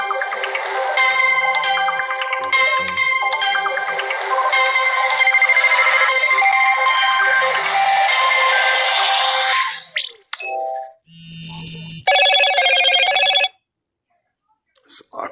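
A cell phone ringing with an incoming spam call, a loud, close, repeating melodic ringtone that plays for about ten seconds, then stops and gives way to brief talk and short bursts of other audio.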